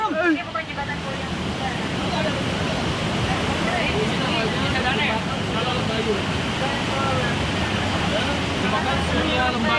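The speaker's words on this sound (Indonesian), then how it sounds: "Ini Sungai Ciliwung ya" Dense, steady rush of the Ciliwung River flowing through Bogor Botanical Gardens, filling the whole stretch at close range, with a babble of voices and chatter mixed into the constant water noise.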